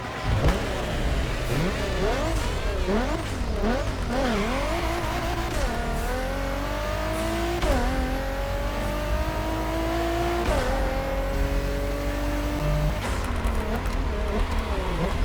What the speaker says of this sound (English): let me show you guys what this thing sounds like because it sounds really good